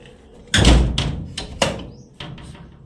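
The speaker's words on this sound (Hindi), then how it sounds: "हवा चल रही है तो दरवाज़ा लगा देती हूँ" A wooden door pulled shut in a windy rural kitchen beside a lit clay stove, giving a loud thudding slam followed by several lighter knocks and rattles, close by with no talking.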